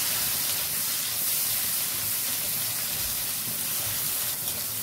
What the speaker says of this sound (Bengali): এবার এগুলোকে দিয়ে হালকা হালকা করে নাড়াচাড়া করে নিতে হবে।